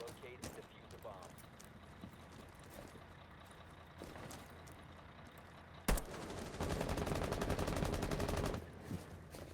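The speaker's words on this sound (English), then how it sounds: "We're hearing some early gunshots" Gunfire in a Rainbow Six Siege bomb-defuse match: scattered distant shots early, then a sharp crack followed by a dense, sustained burst of rapid automatic fire, with faint game ambience and commentary voices beneath.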